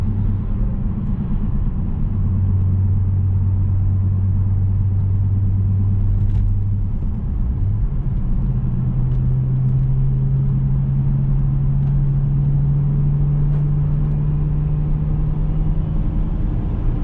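A BMW 335i with a Precision 6266 top-mount single turbo idles close by in a deep, steady rumble, its low drone shifting pitch a couple of times over a long stretch.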